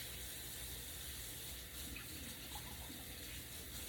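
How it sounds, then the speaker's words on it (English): Water from a kitchen tap runs steadily while hands are rinsed under it, a constant close hiss of flowing water with faint splashing throughout. "let me just rinse off my hands"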